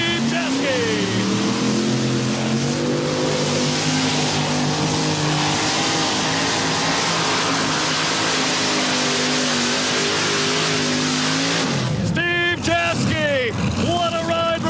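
1989 NTPA modified tractor pull in Hildreth, Nebraska, the tractor's engine roaring loud and sustained for about eleven seconds before cutting off abruptly, with someone talking over a loudspeaker afterward.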